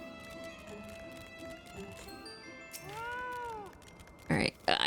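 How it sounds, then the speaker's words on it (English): A pet cat meows once in a drawn-out, wavering call, close and clear, amid quiet background game sounds, followed by brief louder noises. "It's my kitty cat."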